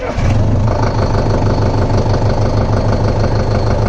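Sonalika CRDI tractor diesel engine catching after a brief crank and settling into a loud, steady clattering idle close by.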